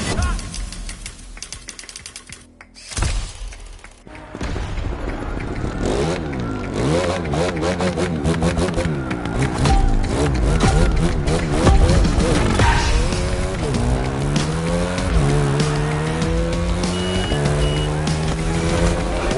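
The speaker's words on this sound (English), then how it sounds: "You get on that bike, driver, and you give me a two-wheeled concerto" A motorcycle in a driving video game revs and accelerates with a loud, continuous engine whine rising and falling through gear changes, with game voices heard under it.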